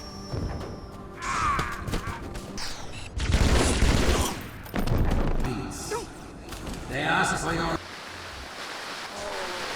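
Sniper jackal gunfire from Halo 2 on Legendary difficulty, a dense barrage of shots, impacts and explosive thumps building into loud bursts, with voices and game sounds over it before it drops off.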